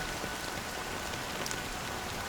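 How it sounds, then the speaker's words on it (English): Steady rain pouring in the video game Honkai Star Rail, a dense, even hiss of falling drops holding at moderate loudness throughout with no voices. "it's still raining."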